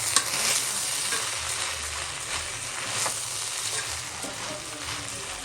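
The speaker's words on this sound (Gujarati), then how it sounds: "એ આપણે સારી રીતે મિક્સ કરી દેવાનું છે." Sweet pulao with sugar and saffron milk being stirred in a pot, a steady wet sizzling hiss with soft scraping and stirring strokes, close and continuous.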